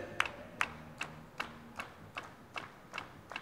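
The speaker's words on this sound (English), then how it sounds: "clap your hands like this right here" Sidewalk listeners keep time with steady hand claps during a street performance, roughly nine sharp, regular claps, fairly faint, with quiet low music underneath.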